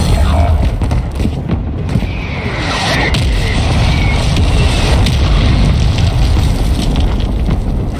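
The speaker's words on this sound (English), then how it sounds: "Our mortar strike is in the." A mortar strike lands in Call of Duty Warzone 2.0 as a heavy, rumbling explosion. The boom rolls on continuously with loud low-end debris and wind-like roar that fills the whole span.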